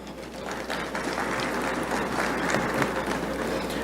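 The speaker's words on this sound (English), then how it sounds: "I believe that this is worthy of a round of applause." An audience at a vendor sensitization event gives a sustained round of applause, dense clapping that stays even and fills the room with no voices over it.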